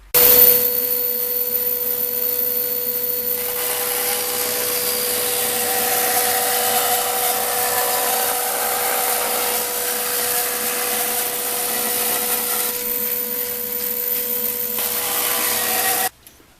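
A bandsaw rips pine into strips about 3.5 centimeters wide, giving a continuous loud whirring hum with a steady tone and a rising hiss while the blade is in the wood.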